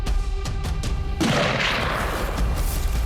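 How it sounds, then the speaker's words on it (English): Gunfire near an elk decoy during a Montana game warden operation: a sharp boom lands about a second in, followed by a dense, noisy rumble that carries on for several seconds. "With the sound of gunfire,"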